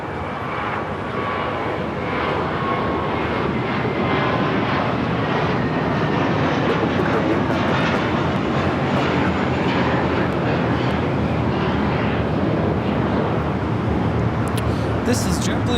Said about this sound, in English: This is JetBlue Airways Flight 688 taking off to Boston on the A321